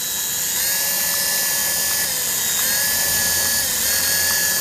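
Toy RC helicopter rotors whir in a steady, loud, high-pitched drone with a faint wavering pitch, running continuously with no talk.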